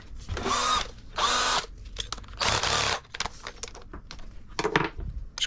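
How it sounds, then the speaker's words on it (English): A power drill fitted with a hole cutter bores into a Catalina drum shell in a studio. Several loud whirring bursts of about a second each are separated by pauses, followed by lighter clattering. "see if we can start drilling some holes into this drum"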